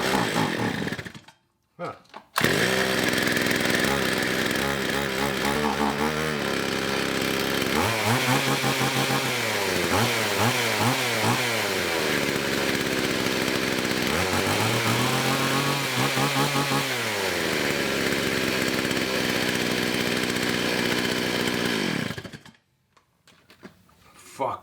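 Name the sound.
old chainsaw starting and running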